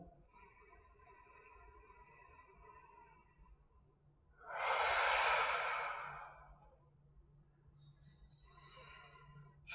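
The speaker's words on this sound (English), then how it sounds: "Breathing deeply into that." A single deep, loud exhale, like a sigh, rises and fades during a hatha yoga pose, with quiet room tone and faint low hum around it.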